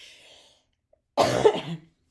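A single short cough, fairly close and clear, after a brief faint sound and a moment of near silence.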